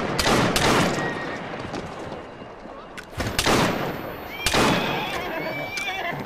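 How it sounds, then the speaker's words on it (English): Gunfire in the video game Assassin's Creed Syndicate: several sharp, loud shots ring out at irregular moments over a busy game scene with horse whinnies and hoofbeats, while a player talks. "Yeah, gunshots."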